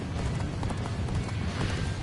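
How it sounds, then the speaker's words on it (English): Horse hooves galloping in the Dynasty Warriors Origins video game: a dense, fast clip-clop of running hoofbeats that stays loud and continuous under a rumbling battlefield background, without talk. "trying to ride this horse in here"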